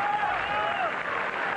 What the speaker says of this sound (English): So, the applause grows for Guillermo Vilas.